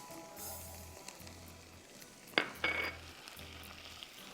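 Onions and garlic fry in a pan, a soft, steady sizzle close by, with a faint low hum that pulses on and off and a couple of sharp clinks of a utensil against the pan.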